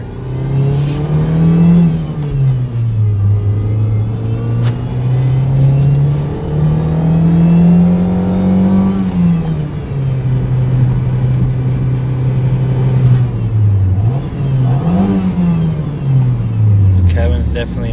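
A rear-engined car's engine revs steadily through a semi-pull, its loud, continuous drone rising and falling in pitch several times, close up throughout.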